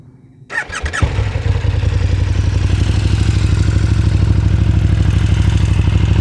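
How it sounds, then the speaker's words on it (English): A 2019 KTM Super Duke 1290 GT motorcycle starts up with a short cranking clatter, then settles into a loud, steady idle with a deep, pulsing exhaust note close by. "So that's the sound of the exhaust."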